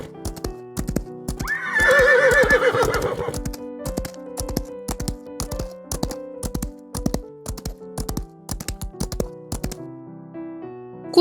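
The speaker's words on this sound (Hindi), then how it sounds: "इसके बाद घोड़ा दौड़ शुरू हो जाती है।" Racehorses run a race: a loud whinny rises early over rapid, crisp hoofbeats that clatter on in an even galloping rhythm to the end.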